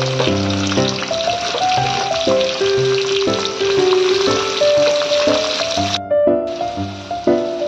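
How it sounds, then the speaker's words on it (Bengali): Onions fry in hot oil with dry red chillies, bay leaves, cinnamon, cloves and whole garam masala, a loud continuous sizzle running throughout beneath prominent melodic background music. "পেঁয়াজগুলো আমার এরকম ভাজা হয়ে এসছে।"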